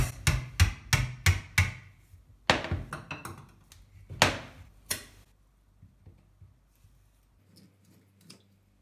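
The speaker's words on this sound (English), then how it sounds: "We use a hammer and hammer into the eyes." Sharp metallic hammer blows drive a screwdriver into a coconut's eyes in quick bursts, a run of five rapid knocks, then a few heavier spaced hits, fading to quiet handling noises.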